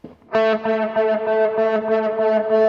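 An electric guitar note is fed through an Elephant Man digital delay at full feedback, the repeats stacking into a sustained, distorted, self-oscillating drone with a rhythmic pulsing texture, loud and alone.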